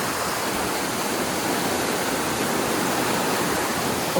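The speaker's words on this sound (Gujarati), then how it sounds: "કેટલી પ્રેશરમાં પાણી જાય છે નીચે" River water rushes steadily downstream under pressure at Lalpura river, a constant dense roar that stays close and loud throughout with no voices.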